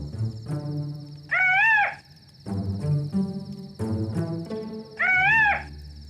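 Human voice imitates a bird call with two warbling, rising-and-falling whistled notes, well separated and fairly close, between stretches of other vocal sounds.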